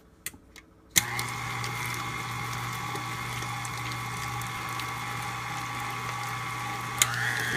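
KitchenAid stand mixer switches on with a click and whips in the bowl, a steady close motor whir with a strong low hum that holds level for several seconds before another click.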